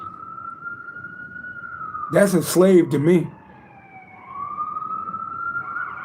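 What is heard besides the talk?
emergency vehicle sirens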